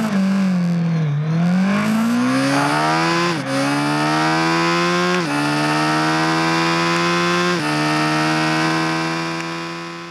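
A 2021 Suzuki Hayabusa's 1340cc inline-four revs hard and continuously at close range, its pitch dipping then climbing through several stepped rises, loud and alone with no talk.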